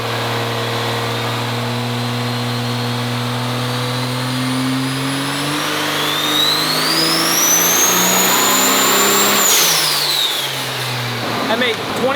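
A triple-turbo Quad Cab diesel truck with oversized injectors revs hard up close, its engine drone climbing with a rising turbo whistle that peaks and falls away, under steady talk.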